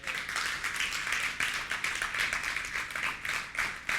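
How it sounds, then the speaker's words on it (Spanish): A church congregation applauding together, a dense, steady wash of many hands clapping close by with irregular swells, no voices over it. "¿Alguien le quiere dar un aplauso al Señor?"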